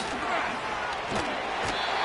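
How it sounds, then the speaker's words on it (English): Crowd noise roars steadily through an NFL stadium during a Jets at Dolphins game, a loud continuous wash of many voices with a few sharp thumps, and a commentator's voice sits faintly under it. "this crowd making it hard to hear."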